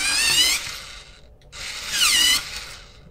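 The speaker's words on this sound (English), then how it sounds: "Okay, I need to sharpen." A colored pencil is sharpened in two short bursts of whirring, grinding sound, close and fairly quiet, with a brief pause between them and no talk.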